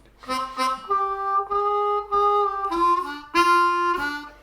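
A blues harmonica plays a lick, a handful of sustained reedy notes in a short phrase with bending, close and clear, with no one talking.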